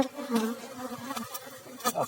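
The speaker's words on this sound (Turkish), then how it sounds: "arı gördüğünüz gibi komple basıyor artık bütün çıtalara" Dense buzzing of many honeybees close by at a hive, a steady droning hum with occasional louder passes of individual bees.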